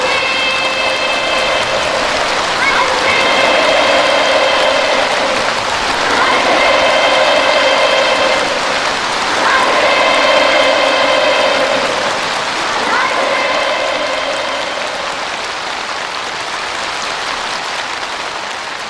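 Children and delegates at a Korean Children's Union congress raise a massive, continuous cheer with applause, rising and falling in rhythmic waves of chanted shouts that fill a large hall for the full length.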